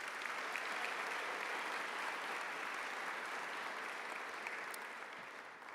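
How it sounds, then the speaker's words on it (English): Warm, sustained applause from an awards-ceremony audience at the Stanford Athletics Board Awards honors a winner, a dense, steady wash of clapping that holds throughout and eases slightly at the end. "Big, warm, wide applause for Nishesh Basavareddy."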